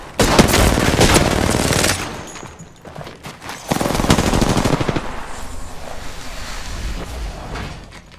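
Sustained bursts of video game gunfire aimed at the player, with rapid loud volleys and brief lulls, dense and close throughout.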